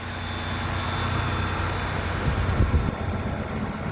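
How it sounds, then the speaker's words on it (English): A 2015 Nissan Pathfinder SUV engine idles evenly with a steady low hum, close by and continuous, with no voices. "Now with the motor running,"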